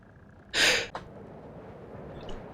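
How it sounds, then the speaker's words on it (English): A single short, sharp sneeze bursts out at close range, followed by a brief sniff, against a quiet room background. "Had to sneeze."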